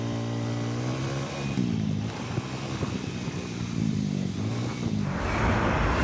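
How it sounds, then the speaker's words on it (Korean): A rented motorbike scooter in Thailand idles and revs close by, a steady engine drone with harmonic whine that rises briefly mid-clip, heard alone without talk. "제가 지금 사용하고 있는 모터바이크입니다."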